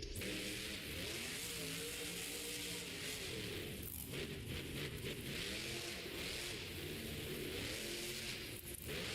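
A monster truck engine at a Monster Jam stadium show in Detroit roars continuously and loudly, rising and falling through revs against dense crowd and arena noise.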